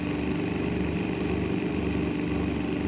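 A turret lathe hums and drones steadily at close range while making the final trimming cut on a threaded pin, a continuous machine whir with a low rhythmic throb and no pauses.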